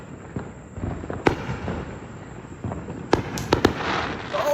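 Neighborhood fireworks viewed from a home front yard: a few sharp pops and bangs at medium distance, scattered irregularly over a steady outdoor hum, with no talking.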